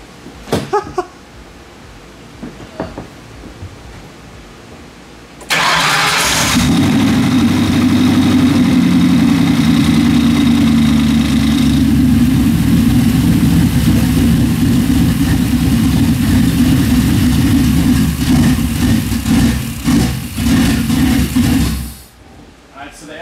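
A car engine on a rich E85 tune cranks and catches, then settles into a loud, steady, slightly rough idle that runs close by for about fifteen seconds before cutting off, with brief talk and handling noise before the start.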